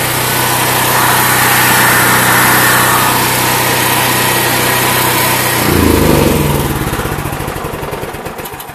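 Dual fuel portable generator, Predator 8750 or Duromax XP12000EH, engine running loud and steady, then its pitch sags and the drone slows and winds down as the fuel is shut off.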